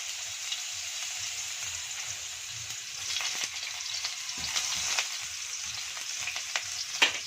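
Minced ginger fries in a little hot oil for chicken feet adobo, giving a steady crackling sizzle throughout with occasional stirring clinks and scrapes, close and moderately loud, with no talk.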